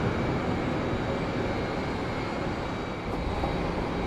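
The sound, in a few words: British Airways Airbus A319 aircraft at London Heathrow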